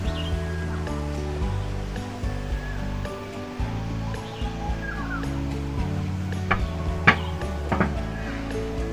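Water pours steadily in the Waterfall Aviary, a tall man-made indoor waterfall at Jurong Bird Park, making a broad continuous rush. Bird calls and a few sharp chirps sit over it, with a low hum running underneath.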